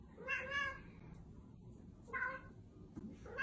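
A cat meows twice, with clear, fairly close calls separated by a short pause, over a faint background.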